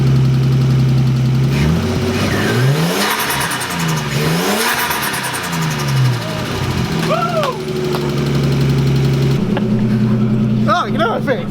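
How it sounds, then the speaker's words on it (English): A loud, close turbocharged Nissan RB20 car engine in a 180SX revs up and down again and again, its pitch swooping, while people talk over the roar. "Oh, that turbo sounds good."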